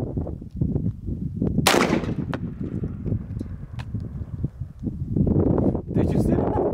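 Shotgun firing buckshot at an outdoor shooting setup: a single sharp, loud blast about a quarter of the way in, over steady wind noise and low murmuring voices.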